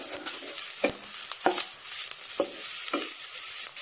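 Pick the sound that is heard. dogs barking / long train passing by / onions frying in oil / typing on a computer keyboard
onions frying in oil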